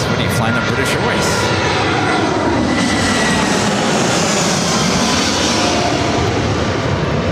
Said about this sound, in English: This arrival is Delta Airlines 2272 coming in from San Francisco on the A320.